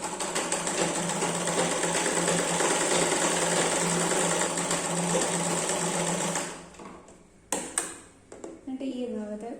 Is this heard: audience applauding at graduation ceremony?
no